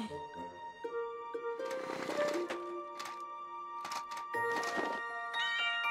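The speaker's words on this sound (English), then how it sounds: "It was just Kitten all along!" A cartoon kitten meows in a series of short, high-pitched calls set against bright musical tones, with several mews in close succession.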